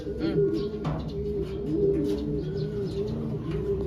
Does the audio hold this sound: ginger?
no